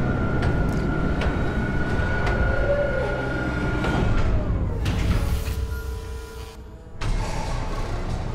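Tram car arriving in Dead Space Remake, a low mechanical rumble and rattling rail hum with clunks and a pneumatic hiss near the end, faint voices in the background.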